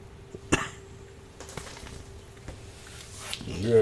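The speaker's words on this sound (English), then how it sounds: "Coughing again." A person gives one sharp, close cough followed by smaller throat noises and softer coughing sounds, with some faint shuffling in a quiet indoor space.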